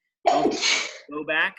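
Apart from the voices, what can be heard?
sneeze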